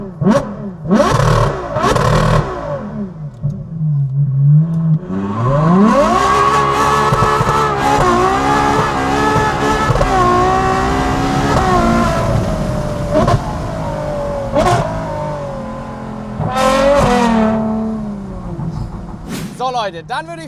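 A Ferrari 812 GTS with its V12 engine revving hard, loud and close, pitch sweeping up and down through repeated climbs and a long rising pull, with a voice talking over parts of it.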